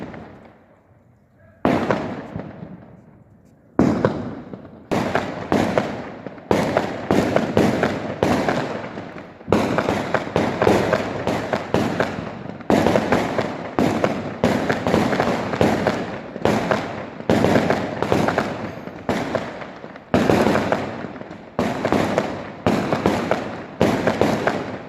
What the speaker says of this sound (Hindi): नगर के विभिन्न गली मॉलों में आतिशबाजी की आवाज़ सुनाई दी